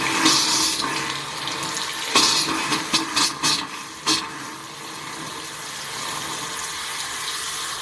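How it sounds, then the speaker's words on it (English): Water gushes from a faucet right after a water heater anode rod replacement, with several sharp sputtering bursts as trapped air spits out, then settles into a steady, loud rushing stream. "air coming out from the faucet is normal"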